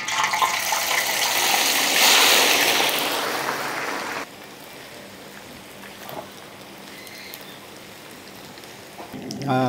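Anchovies (ikan bilis) frying in a pan give a loud hissing sizzle for about four seconds, then settle into a quieter crackle.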